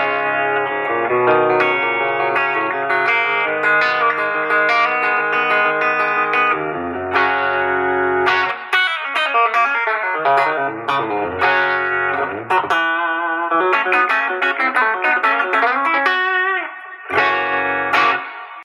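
Electric guitar, a Telecaster-style instrument, played through a JHS NOTAKLÖN overdrive pedal into a Quilter amp with light amp reverb, giving loud, continuous driven chords and single-note phrases with brief pauses, played alone with no talking.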